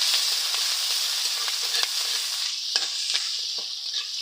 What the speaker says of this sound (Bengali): এই যে আলতোভাবে কিন্তু ভেজে নিচ্ছি